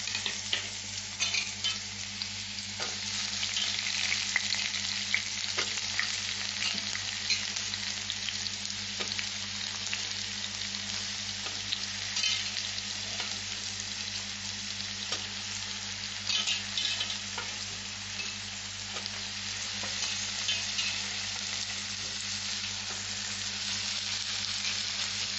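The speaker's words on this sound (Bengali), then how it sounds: "কড়াইতে আমি তেল দিয়ে দিয়েছি, তেলও গরম হয়ে গেছে। এখন আমি এই আলুটা দিয়ে দিচ্ছি, কুচনো করা আলু।" Chopped potatoes frying in hot oil in a wok, a steady, dense sizzle that runs evenly throughout with occasional faint clinks, close and fairly loud, no voices.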